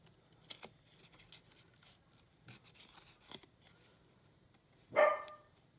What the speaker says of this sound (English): Always gotta bark when it's time to do videos.